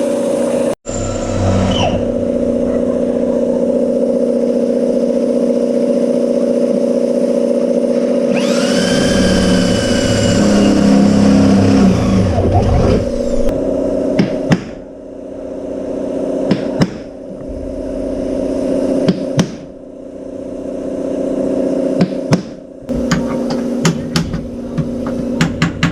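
Hammering on the roof of a van during a high-top conversion, with repeated sharp metallic blows, loud and close, over a steady ringing drone and grinding tool noise.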